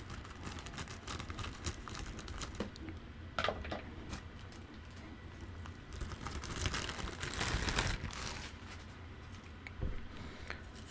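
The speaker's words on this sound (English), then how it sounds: "open this using the scissors" Scissors snipping and slicing into the packaging of a microphone shock mount for a BM800 condenser mic, heard close up as crinkly plastic rustles and a few sharper cuts, with no talking.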